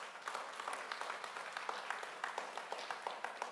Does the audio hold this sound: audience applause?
yes